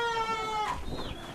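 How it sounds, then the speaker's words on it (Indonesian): A goat on a fattening farm bleats once with a wavering, nasal cry, close and clear, followed by fainter farm background. "kambing ini"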